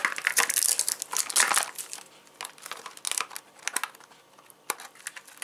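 Plastic packaging from a cosmetics order crinkles and crackles up close as it is opened and handled, in dense bursts of rustling that thin out into scattered crunches and rustles.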